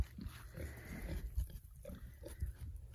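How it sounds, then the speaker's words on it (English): Pigs in a pasture give low grunts and snorts, close and intermittent over quiet rural background noise on a hot day. "Y'all should be some happy pigs."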